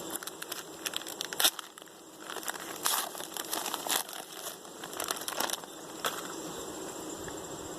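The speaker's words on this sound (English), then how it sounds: "now let's open them with the hive tool" A Mite Away Quick Strips package being opened with a metal hive tool beside a beehive, giving close, irregular crinkling and crackling of foil packaging in bursts, with faint buzzing bees in the background.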